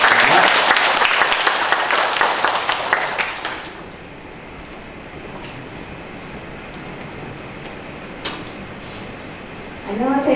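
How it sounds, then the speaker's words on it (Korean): Audience applause welcoming a department head at a Korean workplace innovation event, loud and dense for a few seconds before stopping abruptly, leaving quiet room tone with a brief knock and a renewed burst of sound at the very end. "박수로 부탁드립니다."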